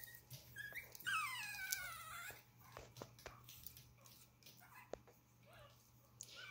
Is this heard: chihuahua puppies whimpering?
yes